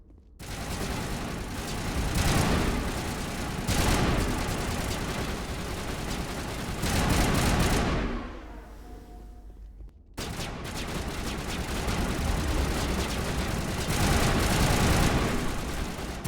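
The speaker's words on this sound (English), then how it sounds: "I think it's still too loud, the gunfire." Dense, continuous gunfire from the Mass Effect video game during a fight with mercenaries: loud overlapping rapid bursts that run almost unbroken, with one short lull before the shooting resumes at full intensity.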